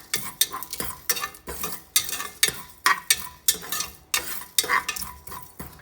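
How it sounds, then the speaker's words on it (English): Dry whole spices being dry roasted in a bare pan give off rhythmic scraping and rattling as a utensil stirs them, about two strokes a second, close and clear with a faint crackle between strokes. "Dry roast all the dry spices."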